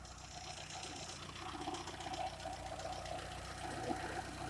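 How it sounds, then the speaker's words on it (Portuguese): A Fiat Tipo 1.6 8V petrol engine idles steadily with an even, low mechanical hum and light ticking, heard close and alone without any talk. "Te fazer escutar o motor."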